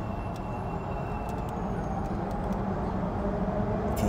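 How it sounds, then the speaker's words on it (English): Elevated L train running on the Market Street track above the 52nd and Market intersection in West Philadelphia, a steady low rumble heard from inside a car, continuous and moderately faint with faint high squeaks. "this is the same track that the L is on"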